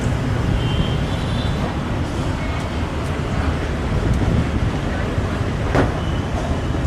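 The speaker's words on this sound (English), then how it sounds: "Yeah, it is super windy." Steady, loud wind roars and buffets the microphone throughout, a dense rumbling wash with no clear gaps, in Ho Chi Minh City before rain.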